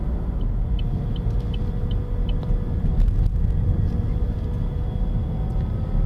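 Steady low in-cabin road and engine rumble from a Vauxhall Astra driving onto a motorway, with faint repeated ticking like an indicator early on and no speech.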